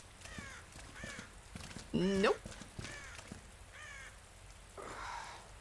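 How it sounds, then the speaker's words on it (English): Crows cawing in the ambient soundscape of the video game Dead by Daylight, a few harsh calls under a person's talk and other game noise. "You hear the crows?"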